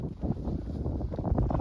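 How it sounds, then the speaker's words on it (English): A light wind of about 7 mph blows outdoors on a cold morning, a steady low buffeting rumble against the microphone, close and fairly soft, with no voices. "Just a piddly little 7 mile an hour wind this morning."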